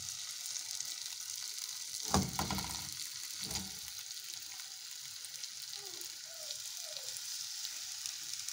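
Malai boti skewers set into a hot pan, a soft steady sizzle with a couple of clattering knocks as the sticks go in, close and without talk.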